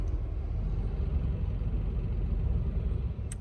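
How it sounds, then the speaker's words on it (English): A car engine idles in a traffic jam at a stop-go roadworks sign, a steady low rumble heard from inside the vehicle, with a brief thump near the end. "I'm now sitting in a traffic jam at a stop-go sign."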